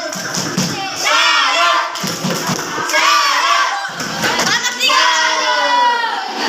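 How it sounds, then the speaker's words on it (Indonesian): A classroom of students cheers and claps for a student group after its presentation, with bursts of loud children's shouting and chanting over the clapping in three waves. "Beri aplaus untuk kelompok 4"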